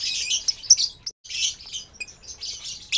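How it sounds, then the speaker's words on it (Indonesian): An albino red-eyed lovebird chirps in quick, bright, high tweets that come in short bursts with brief pauses, close and clear with no talking. "burung lovebird jenis albino mata merah seperti ini ya"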